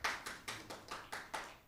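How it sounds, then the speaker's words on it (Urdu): A mushaira audience gives a poet a short burst of applause, six or seven distinct, evenly spaced claps ringing out clearly without voices. "آپ کی بھرپور تالیوں کی گونج میں"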